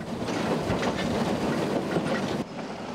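A train rumbles along the rails with a steady rolling clatter, fairly close, continuous throughout the short stretch.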